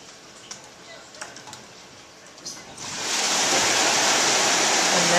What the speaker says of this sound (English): And now the water is coming into the lock so that the boat will rise up to meet the level of the water on the other side.